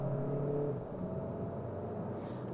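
A 2016 VW Golf Alltrack accelerating uphill, heard from inside the cabin as a steady low engine drone with a rising tonal hum, over constant road rumble.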